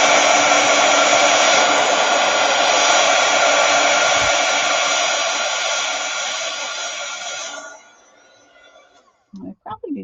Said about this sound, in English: I'm going to just use my heat gun a little bit to make sure those eyes are fairly dry